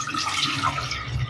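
Four cups of water poured into a pan for gulab jamun sugar syrup, a steady splashing, gurgling stream heard close and continuous throughout without any talk.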